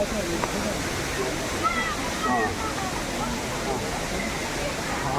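Seetharkundu waterfall in Palakkad pours as a steady, dense rush of falling water that fills the whole scene without letting up, with faint voices and a few bird calls barely rising above the roar.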